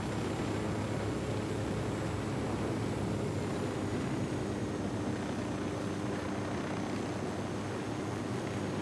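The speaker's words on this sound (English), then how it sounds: "I shall park the helicopter." A helicopter in Ghost Recon Wildlands drones steadily as it sets down, a constant broadband rotor and engine roar with no voices over it.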